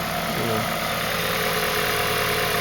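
A vehicle engine idles steadily right after starting, freshly rewired, with a close, loud, even mechanical hum and constant low rumble throughout, with no voices.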